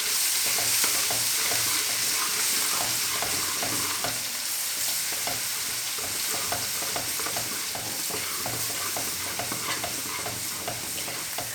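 Ginger-garlic paste being stirred into browned onions in a pan while preparing turnip chicken (shaljam gosht), with a steady sizzle and frequent close scraping strokes of the spoon.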